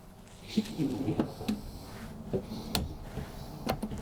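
Drawers in a premium travel trailer slide open and shut and click as they lock in place, giving several hard knocks and rattles over a running background, with a person talking nearby.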